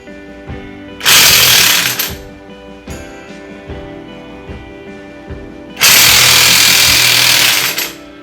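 A pinion bearing being hammered out of a Dana 35 differential from a Jeep WJ, two long bursts of rapid, very loud metallic pounding with quieter clanks and knocks in between, no talking.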